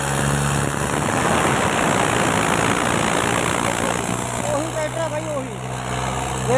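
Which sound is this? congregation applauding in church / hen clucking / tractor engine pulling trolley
tractor engine pulling trolley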